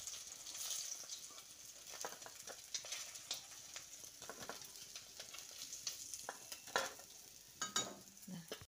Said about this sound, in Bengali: বাকি যে মাছগুলো ছিল সেগুলো এই তেলে ভেজে নিচ্ছি।